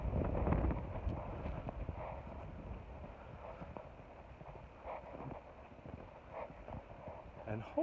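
Gusty wind near a lake roars and buffets the microphone in uneven surges, with rustling and faint crunching like footsteps underneath; no clear talking.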